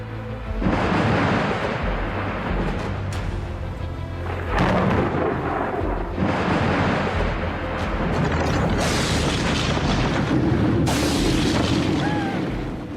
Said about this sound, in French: Il y a un éclair qui nous a touchés